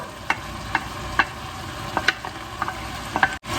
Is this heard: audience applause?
no